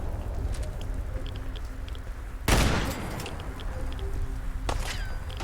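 Gunfire destroying a turret in Fallout 4: one loud, close shot with a sharp crack and a rumbling tail, and a fainter crack follows later. Steady low ambience and small chirping sounds fill the background.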